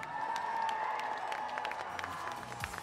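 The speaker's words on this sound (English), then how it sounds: "a round of applause for Invest Africa" A distant crowd claps and cheers at St Katharine Docks in London as the Invest Africa boat comes into the dock, a steady faint applause with scattered shouts and a tonal hum running through it.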